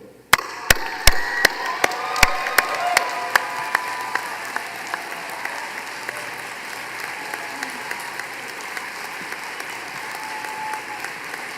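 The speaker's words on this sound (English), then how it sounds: "Please, everyone, stand and give a huge round of applause" Awards ceremony audience at the Enactus World Cup in Puerto Rico applauding. Sharp distinct claps ring out in a steady rhythm at first, then blur into a softer, sustained round of applause that keeps going for over ten seconds.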